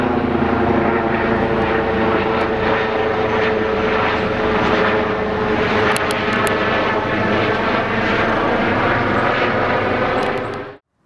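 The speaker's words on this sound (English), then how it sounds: "beautiful, noisy helicopters." Loud, continuous rotor and engine roar of helicopters passing close overhead, a dense steady drone that fills the whole stretch before cutting off suddenly.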